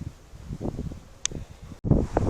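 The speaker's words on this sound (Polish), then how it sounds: "Trochę wieje wiatr, mam nadzieję, że nie będzie zagłuszał za bardzo." Gusty wind buffets the microphone in low rumbling bursts, rising to a louder roar near the end, with some outdoor rustling.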